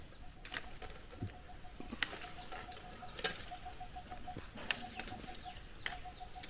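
Birds and pigeons around a fruit tree, with repeated soft wing flaps and low cooing calls plus scattered chirps, moderately distant over a steady outdoor background.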